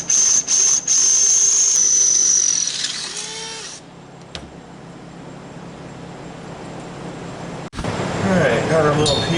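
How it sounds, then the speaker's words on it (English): A power drill whines at a high pitch drilling out a metal part, starting and stopping in short bursts before running steady, then cutting out; later a harsher grinding rattle follows. "So it looks like we need to drill it out some."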